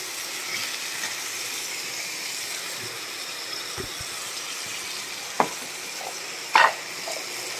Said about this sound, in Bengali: এবার সুন্দর করে কষাবো।